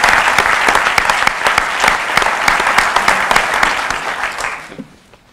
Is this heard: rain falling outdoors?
no